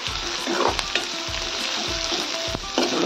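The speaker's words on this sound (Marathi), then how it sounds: "याला छान लाल होईस्तोवर आपल्याला परतून घ्यायचे आहे." Chopped onions sizzle steadily in a hot pan while a spatula scrapes and stirs them every half second or so, the frying close and fairly loud with no voices.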